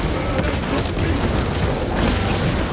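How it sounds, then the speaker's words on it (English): Shock grenade going off in Warhammer 40k Space Marine 2, a dense booming burst of crackling noise over continuous battle din, loud and close, with a second surge near the end. "Shock grenade loose."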